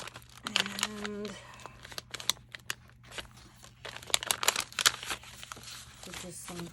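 Sheets of journaling paper handled inside a teal, coffee-themed journal, with close crinkling and rustling in short bursts as pages are shifted and flipped, under and between a woman's speech.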